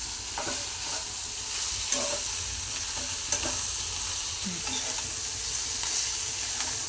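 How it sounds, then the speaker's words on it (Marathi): Okra (bhindi) sabzi being stirred together in a frying pan, a steady close sizzle of frying with repeated scraping and clinking of the spatula against the pan, no voices. "सर्व एकत्र करून घ्यायचं आहे"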